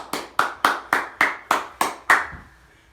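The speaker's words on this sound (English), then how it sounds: "let's give a nice round of applause for all those people on the front line." A single person claps a round of applause during an acoustic music livestream: seven sharp, evenly spaced hand claps, close and clear against a quiet room, then a short fade.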